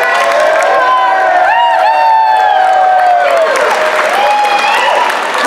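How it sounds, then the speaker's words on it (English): A loud festival crowd cheers and whoops continuously after a live folk music set, with applause and high excited shouts blending into a dense roar. "please give yourselves a huge big cheer"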